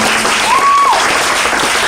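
A church congregation at a fifth-anniversary celebration claps and acclaims God, a dense, loud, continuous roar of applause with a single sustained vocal cry rising over it.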